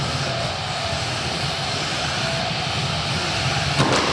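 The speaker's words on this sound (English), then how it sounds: "now we have the weapon spinning up on MegatRON" A combat robot's spinning weapon whirs up during a Motorama 2018 arena match, making a steady, loud mechanical drone that holds throughout like an engine, with a brief knock near the end.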